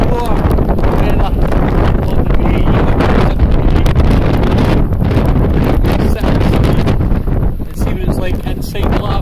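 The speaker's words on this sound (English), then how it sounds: "I hope you can hear me over the wind" Strong wind blowing outdoors beside a lavvu tent on a windy day, a loud continuous roar buffeting the microphone with gusts, while a person speaks over it.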